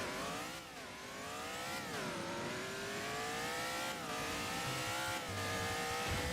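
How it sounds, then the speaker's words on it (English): A NASCAR Dark Horse race car in the Driving Empire video game revs its engine hard, its loud, continuous roar climbing in pitch, dipping between gear shifts, then climbing again. "Sounds like a proper NASCAR,"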